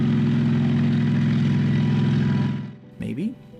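Kamov Ka-26 helicopter flying close by, a loud steady engine and rotor drone that fades out near the end, followed by a brief burst of another sound.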